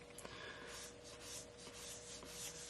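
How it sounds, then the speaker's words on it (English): A stylus pen tip dragging across a screen protector while drawing a straight line, a faint, continuous scratchy rubbing with slight texture changes, close up and alone with no talking. "You can hear, the scratchiness from the screen protector"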